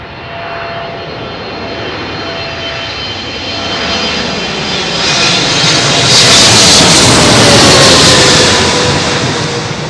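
A jet airliner on approach to Heathrow runway 27L passes close overhead, a loud roaring rush that builds to a peak around the middle and stays strong as it fades slightly at the end, with no voices.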